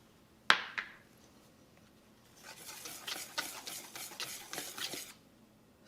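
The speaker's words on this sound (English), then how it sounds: "Stir the ingredients" All-purpose flour and salt stirred together in a bowl for flour tortilla dough, a sharp clink at the start, then a steady run of scraping, rubbing strokes, close and with no voices.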